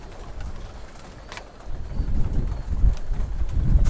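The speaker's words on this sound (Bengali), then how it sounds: "দেখুন এই যে আমাদের যে কবুতরগুলো সবগুলো আমরা খাবার দিয়ে দিছি। মাশাআল্লাহ কবুতরগুলো খাইতেছে।" Pigeon cocks and hens at a loft eating their afternoon feed, soft low coos swelling in the second half amid faint rustling, close by with no talk.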